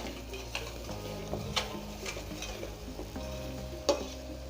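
Ginger, garlic and onions fry in a pan over medium-high heat for pav bhaji, a low steady sizzle under occasional stirring scrapes and light clinks of a utensil against the pan.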